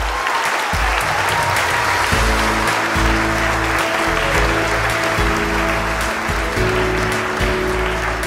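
Sustained applause from an audience at a writers' awards ceremony, dense and steady throughout, with a low musical drone playing underneath.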